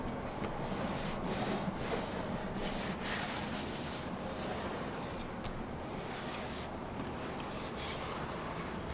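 A steady, gritty rubbing scrape of a hand dragging across contaminated car paint, close and continuous with small rhythmic strokes.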